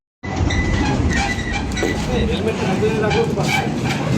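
A train at Ranaghat, near a ride area, heard at night as a loud, steady, close rumble with a rolling clatter that holds for about four seconds without a break.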